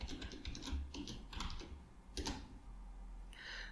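Close, quick bursts of typing on a computer keyboard, entering a package name into a software search box, with short pauses between clusters of key clicks and no talk.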